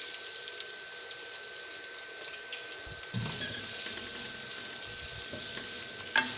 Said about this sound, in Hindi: ऑयल हमारा गर्म हो गया, अब इसमें प्याज डाल देंगे।